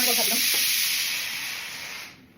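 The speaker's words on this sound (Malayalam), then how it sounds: "അവിടെ കുക്കർ വിസിലടിക്കണം. അതിൻ്റെ ശബ്ദം നമുക്ക് ചിലപ്പം കേൾക്കുന്നുണ്ടോ." A pressure cooker whistles with a loud, steady, high-pitched steam shriek that holds and then fades out, while a voice speaks briefly underneath at the start.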